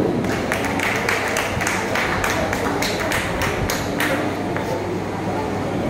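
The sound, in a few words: audience applause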